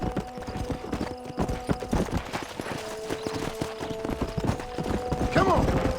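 Horse hooves galloping in the Red Dead Redemption video game, a rapid continuous clatter of hoofbeats with a sustained musical drone beneath and occasional voices speaking over it.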